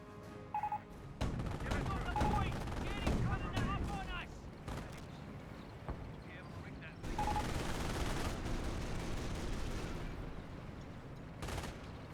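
Machine gun fire, including a .30 cal, and scattered shots crackle through a Company of Heroes 1 battle alongside mortar fire, in bursts of varying loudness under almost continuous commentary.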